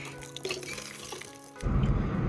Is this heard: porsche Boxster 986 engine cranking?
no